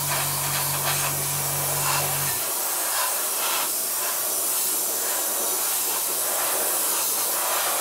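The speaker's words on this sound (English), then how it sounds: "So I'm spraying this at around about sort of 25 psi." An airbrush sprays base paint at about 25 psi, a steady close airy hiss that continues throughout, with a low hum in the first two seconds that then stops.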